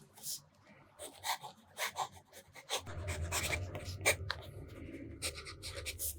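A TWSBI fountain pen with a medium nib scratches across paper in short, quiet strokes with small pauses between them, faint and close, under a low background hum.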